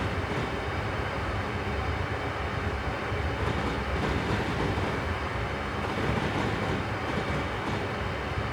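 An Amtrak Acela high-speed train with tilting coaches runs along the Northeast Corridor in Train Simulator, giving a steady, dense roar of wheels on rails with faint rhythmic clatter throughout.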